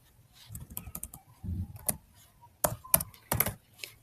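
Keystrokes on a computer keyboard while coding, a quick irregular run of clicks and taps with short pauses between bursts, close and fairly quiet, no voices.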